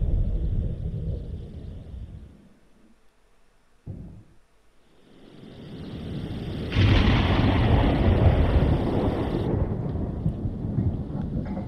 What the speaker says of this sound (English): Hell of a storm.